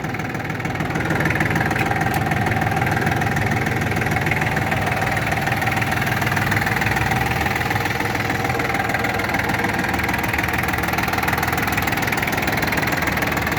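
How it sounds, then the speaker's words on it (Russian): A Yanmar F24D mini tractor's small diesel engine idles steadily and loudly up close, a constant low rumble with a fine knocking rattle and no talking. "Двигатель работает хорошо."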